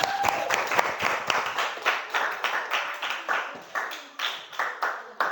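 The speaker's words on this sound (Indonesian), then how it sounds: "tepuk tangan untuk kita semua" A classroom group claps steadily in a brisk, even rhythm, with sharp, close hand claps repeating for several seconds and no talking.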